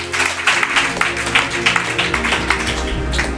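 A church congregation applauds during a French-language Bible teaching, with a steady patter of clapping throughout and voices mixed in.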